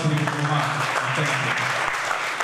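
An audience claps steadily at a college event while someone speaks over the sustained applause.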